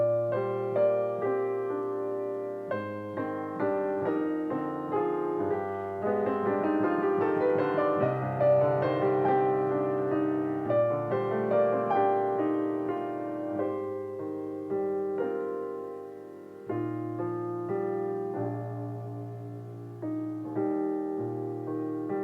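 Original piano-like intro melody from an O Holy Night arrangement, a slow flowing sequence of sustained chords and notes that swells in the middle and softens toward the end, played alone without talk.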